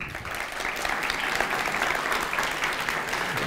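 Audience applause at the opening of a QA conference, a dense steady wash of many hands clapping that holds throughout at fairly loud level, with no talk over it.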